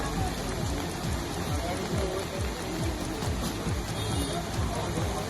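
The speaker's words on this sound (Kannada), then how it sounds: "ಮಹಾರಾಷ್ಟ್ರದಲ್ಲೂ ಎಡಬಿಡದೆ ಮಳೆ ಸುರಿಯುತ್ತಿದೆ" Heavy, steady rain pours during a Maharashtra downpour, a dense continuous hiss of drops on hard surfaces with some splashing, loud and close throughout.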